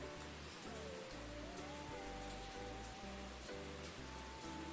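Slit green chilies sizzle in a pan of hot oil with browning ginger and garlic, a steady crackling hiss that stays even throughout.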